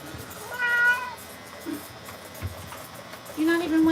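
A cat being bathed at a grooming session meows repeatedly, several drawn-out cries spaced apart, close by, with a person talking softly between them.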